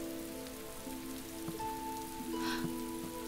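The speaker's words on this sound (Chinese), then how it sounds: "下雨了" Rain falling steadily outdoors, a broad even patter on surfaces with a faint tonal hum running underneath and no voices.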